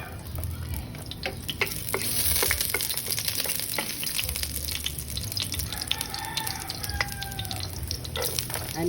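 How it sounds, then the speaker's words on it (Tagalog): Garlic sautéing in a pan for a clam-shell dish, a steady close sizzle with scattered spatters and stirring clicks, plus a faint running-water background. "So first, we're gonna saute the garlic."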